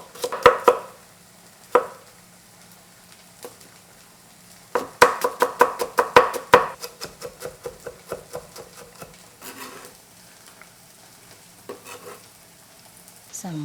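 A knife chops cucumber into matchsticks on a cutting board in quick, sharp bursts of rapid taps, with pauses between runs and a faint background hum.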